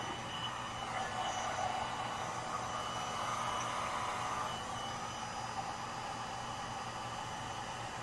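Heat gun blows a steady, breathy whoosh over alcohol ink artwork, a continuous airy roar at moderate level without breaks.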